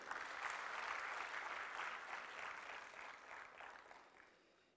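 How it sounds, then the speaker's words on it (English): Applause from a conference audience at an accounting VAT returns and reporting event, a dense, even wash of clapping that holds steady and then gradually tapers off near the end. "Give a big round of applause"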